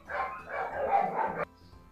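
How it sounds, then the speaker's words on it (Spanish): Small dogs barking indoors in a home, a quick run of loud, close yaps lasting over a second and then breaking off abruptly into quiet. "¿Por qué están ladrando mis bendiciones?"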